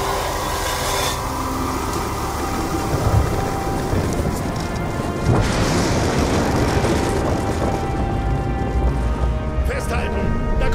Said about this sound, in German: Da kommt ein Sturm!